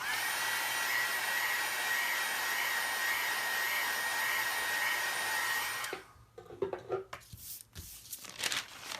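A dryer blows a steady, loud whirring stream of air over handmade brown paper tape for about six seconds, then cuts off, leaving soft handling rustles and taps.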